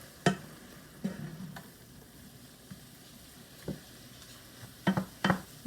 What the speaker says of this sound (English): Stirring this right away so that it doesn't get clumpy.